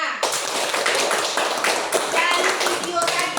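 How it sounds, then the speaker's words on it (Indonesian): Classroom applause from students after a lesson activity, a dense burst of clapping that starts abruptly and carries on steadily, close and fairly loud, with some voices mixed in. "Tepuk tangan untuk kita semua."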